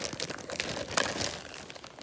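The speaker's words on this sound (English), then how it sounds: "here's the plastic bag" Close, crackly crinkling of a plastic bag being handled, in short irregular bursts.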